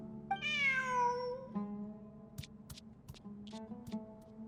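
In Genshin Impact, a cat gives one clear, rising-then-falling meow up close, followed by light ticking and clicking game sounds.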